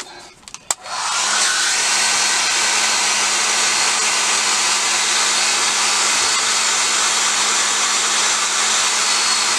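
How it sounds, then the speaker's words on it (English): A hair dryer roars steadily and loudly after a brief click and start, blowing continuously without pause for the rest of the clip. "that's usually when I bang the hairdryer on it"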